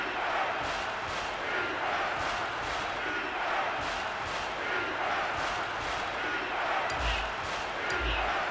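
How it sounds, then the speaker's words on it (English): A packed stadium crowd roars in a college football video game matchup of Purdue at Ohio State, a dense, loud, continuous wash of noise with rhythmic surges and a couple of sharp thuds near the end. "The crowd really making it difficult."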